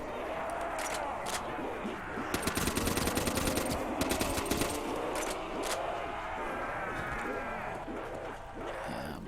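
Rapid automatic gunfire in Call of Duty's Der Riese zombies mode, with dense bursts of shots clustered midway through and a voice talking over continuous game noise.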